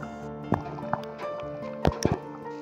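A little water goes into simmering Konkani taro leaf curry (aluchi bhaji), giving a few short, close drips and splashes in a quiet kitchen.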